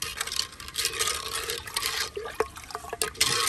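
Mango sharbat with dry fruits is stirred in a vessel, giving continuous close liquid swishing and sloshing with small clinks and drips, fairly loud and without talk.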